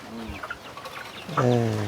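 Farm chickens cluck nearby in a few short calls, ending in a louder, drawn-out cluck, with a faint voice in the background.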